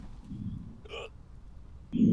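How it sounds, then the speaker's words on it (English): A character hiccups in Quarantine Zone: The Last Check, a video game set during a medical checkup. There is one short, sharp hiccup, then a louder burst near the end over a low background hum. "You just hiccuped."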